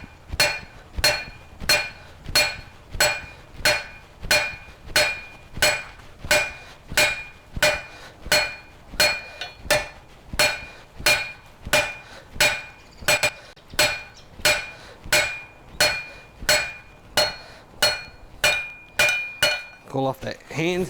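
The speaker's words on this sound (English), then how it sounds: "I'm just going to work on flattening it out a bit" A hammer strikes a 20 mm square steel bar on an anvil, flattening it while forging a nail header: a steady run of about thirty sharp ringing metallic blows at an even rhythm, close and loud.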